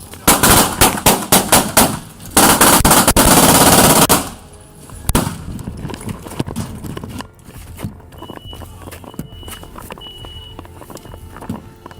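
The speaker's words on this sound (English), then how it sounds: "The sound of rapid gunshots filled the entryway." Rapid bursts of gunfire at point-blank range in a house doorway during a police confrontation, a loud dense volley for about four seconds followed by a few scattered shots and clattering movement.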